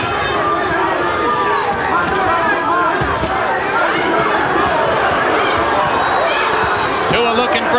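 Boxing arena crowd at a Tua versus Ibeabuchi fight chants and roars continuously, a dense, loud wall of voices with rhythmic shouting throughout.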